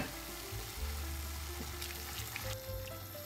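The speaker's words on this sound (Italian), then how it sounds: "aggiungiamo un pochino di acqua di cottura." A ladle of starchy pasta cooking water goes into a hot pan of pasta with asparagus and speck, setting off a steady, close sizzle and bubbling with a faint pour and stir.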